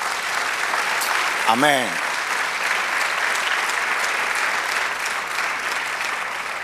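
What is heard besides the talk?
church congregation applause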